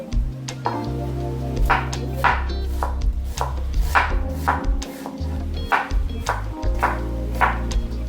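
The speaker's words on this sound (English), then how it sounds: "I'll be cutting my onion into 2 different sizes." A knife chops an onion on a cutting board in a steady run of sharp close taps, with a constant low hum running underneath.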